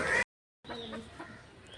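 A brief burst of noise, a short silence, then soft clucking from chickens close by, a few quiet calls trailing off.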